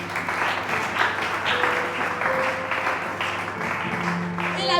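A church congregation applauds the Lord during a French-language worship service, a steady, dense wash of clapping from many hands that continues throughout, with a faint voice and hum underneath.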